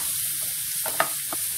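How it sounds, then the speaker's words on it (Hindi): Finely chopped onion frying in oil over medium-high heat, a soft steady sizzle with a few brief stirring clicks near the middle, close and alone. "प्याज को हम गोल्डन ब्राउन होने तक फ्राई करेंगे"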